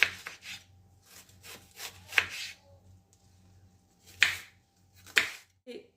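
Sharp knife strokes on a cutting board, likely onion being chopped, arriving as scattered crisp taps and a few louder cuts in a quiet kitchen, with faint background noise between them.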